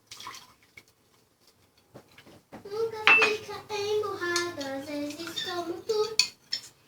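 Warm water poured into a bowl of risen yeast and flour for whole wheat bread, a pouring splash with ringing clinks of dish and utensil, close and intermittent.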